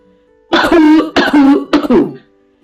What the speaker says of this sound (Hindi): उन्हें फिर से गला साफ करते समय खांसी उठी।